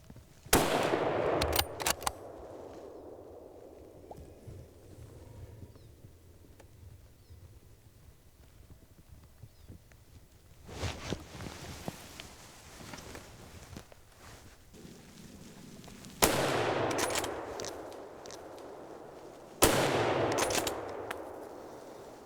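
Rifle shots fired at wild boar during a driven hunt in Hungary, several sharp, loud cracks in separate bursts with quieter outdoor ambience between them.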